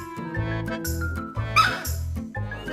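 A pet dog barks in a home, four or five loud, close yips or barks in an uneven rhythm, with a sharper, higher outburst near the middle.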